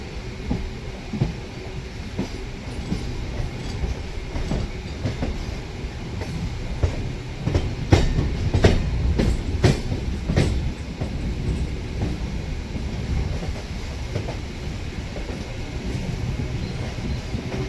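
A suburban train on Chennai's MRTS line rumbles along the rails nearby, with rhythmic clacks and sharp metallic clicks peaking midway as the cars pass, then a steady roll.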